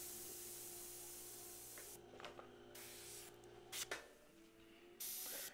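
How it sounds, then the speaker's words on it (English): An airbrush sprays Createx paint from a Silent Air compressor, making faint hissing bursts that start and stop over quiet background noise. "My air compressor is a Silent Air."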